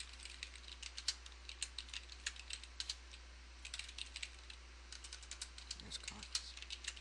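Steady computer keyboard typing during an R statistics session, rapid clattering keystrokes in uneven bursts close to the microphone, with a brief low thump near the end and no speech.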